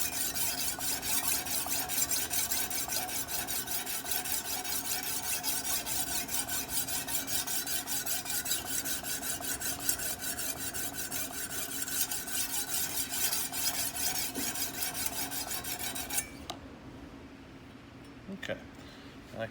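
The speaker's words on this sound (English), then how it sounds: "Missing a little bit on the heel of the knife, so I just do a little bit more scrubbing just here." Sharpening stones scrub steadily back and forth along a knife edge clamped in a Wicked Edge Commercial Series sharpener, a fine continuous rasp that stops near the end, leaving a few faint clicks.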